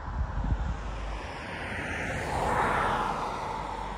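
An airplane passes overhead at night, a broad distant engine roar that slowly swells and stays steady, mixed with light wind noise and no talking.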